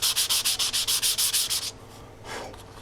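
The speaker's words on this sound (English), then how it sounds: "let the sandpaper do the sanding" About a dozen quick, rhythmic scrapes of sandpaper rubbing a balsa wood model rocket fin, close and crisp, then a pause and one softer stroke.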